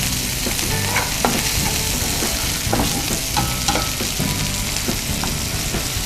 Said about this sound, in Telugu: సో కొంచెం సిమ్లో పెట్టి దీన్ని ఫ్రై చేద్దాం.